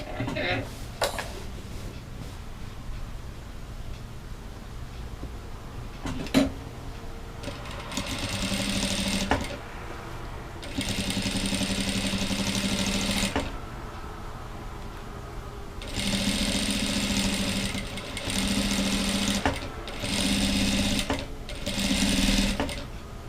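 Sewing machine stitching the hem of a dish towel in several bursts of whirring, each a few seconds long, separated by pauses with faint handling noise and occasional speech.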